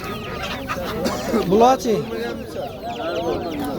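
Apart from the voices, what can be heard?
hens and roosters clucking at a poultry market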